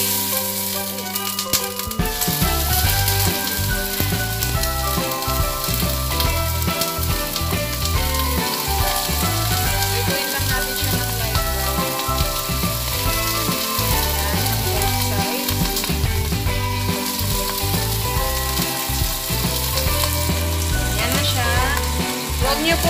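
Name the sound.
frying food in a pan until light brown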